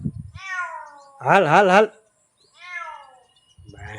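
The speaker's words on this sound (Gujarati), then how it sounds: "જોઈ લો ઓલી બિલ્લી આટા મારે" A cat meows several times, two drawn-out calls and a louder wavering one between them, close and clear, with a person speaking briefly at the start and end.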